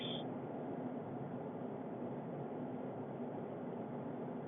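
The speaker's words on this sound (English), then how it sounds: "sorry about the road noise." Steady, dull road roar from inside a moving car, a constant low hum with no talking.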